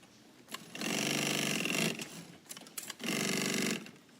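An industrial sewing machine stitches 1.5-inch nylon buffers around binding in two loud, steady whirring bursts, the first longer, separated by a pause with small clicks and handling sounds.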